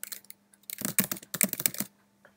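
Quick bursts of keystrokes on a computer keyboard, clicking close and crisp in a short flurry, then trailing off into a couple of stray taps in a quiet room.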